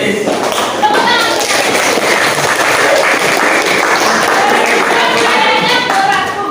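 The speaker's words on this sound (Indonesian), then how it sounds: "Tepuk tangan." Schoolchildren clapping their hands together in a classroom, a dense, steady patter of many small claps sustained throughout, with faint voices mixed underneath.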